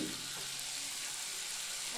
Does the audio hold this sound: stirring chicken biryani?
yes